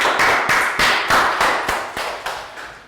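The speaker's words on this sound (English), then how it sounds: "Round of applause for lack out." Year 3 students in a math classroom applaud a classmate with loud, close, rhythmic group claps, about nine sharp beats at a steady pace, each ringing briefly in the room.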